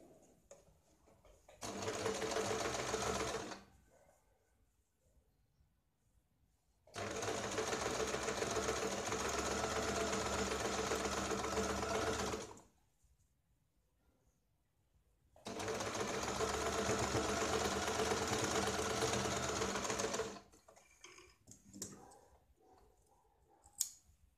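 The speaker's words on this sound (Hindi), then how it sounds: "इसके ऊपर हम पहले सिलाई लगाएंगे" A sewing machine stitches a 38-inch katori blouse, running in three long steady whirring bursts of several seconds each, separated by quiet pauses with faint handling clicks, close by.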